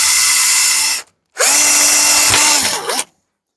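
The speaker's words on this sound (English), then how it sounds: "I'll go from this side where my pilot hole is, and I'll drill the rest of the way" A power drill whirs loudly in two runs separated by a short pause, its pitch dipping under load near the end of the second run.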